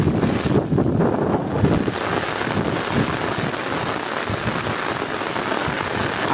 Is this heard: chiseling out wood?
no